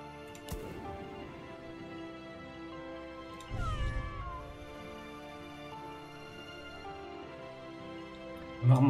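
A cat unit in the strategy game Legion TD 2 gives a single drawn-out meow midway, standing out over steady game music and effects.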